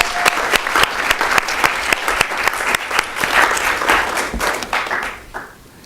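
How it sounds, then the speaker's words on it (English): Audience at a student government general assembly applauding, a dense sustained round of clapping that fades out near the end. "Can everyone please give him a round of applause?"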